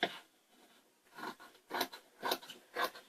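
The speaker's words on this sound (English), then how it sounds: "you could take a pair of scissors and cut it out." Several crisp scissor snips, close and clear, coming in a loose rhythm with brief pauses between cuts.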